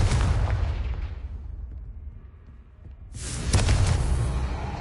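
Confringo blasting-spell explosions in the video game Hogwarts Legacy: a loud booming blast that rumbles and fades, then a second heavy explosion bursts out about three seconds later, with no voices.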